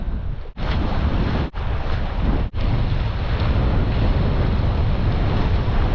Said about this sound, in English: Crazy strong wind.